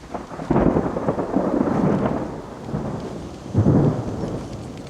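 Heavy rain pours steadily during a thunderstorm, with deep rolling thunder rumbling through it and swelling loudly twice, no voices present.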